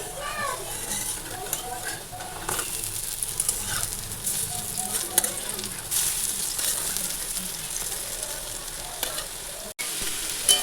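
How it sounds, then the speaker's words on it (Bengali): Pea lentil fritters (bora) frying in hot oil, a steady dense sizzle running throughout with occasional clinks of utensils and stirring, fairly loud and close, with some faint voice sounds in the background. "এখানে বড়া ভাজা বসিয়ে দিয়েছি"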